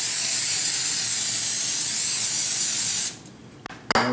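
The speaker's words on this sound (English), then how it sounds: "I'm going to spray this pan down with non-stick cooking spray." A loud, steady aerosol spray of canola cooking spray onto a pan hisses continuously for about three seconds, then cuts off, followed by a couple of faint clicks.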